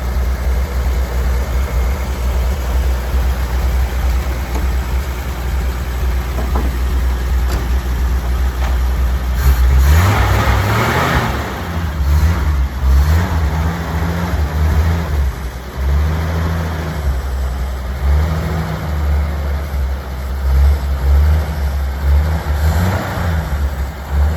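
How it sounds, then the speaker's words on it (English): A Willys truck engine idles steadily, then revs up and runs with an uneven, slightly rough pulsing note, loud and close, with no talking. "She's running pretty good. She's just still a little rough, so we're trying to get her up to par."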